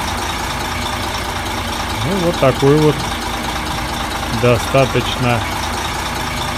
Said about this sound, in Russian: сочный звук двигателя